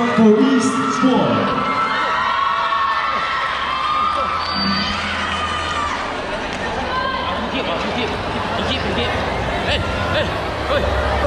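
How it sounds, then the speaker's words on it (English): A crowd cheers and whoops for a dance group at a national dance competition held at a fair, loud and sustained, with shouting voices and chatter mixed in. "Let's give a big round of applause for East Squad."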